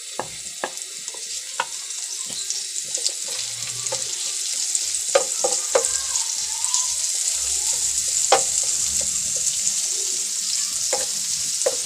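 Steady close sizzling of garlic frying in butter, with occasional sharp pops and crackles, and no talking.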